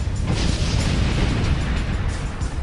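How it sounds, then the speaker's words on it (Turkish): Explosion on a North Sea oil platform: a deep, sustained roaring blast with heavy low rumble and crackling bursts, loud and continuous throughout. "Platform bir başka patlamayla daha sarsıldı"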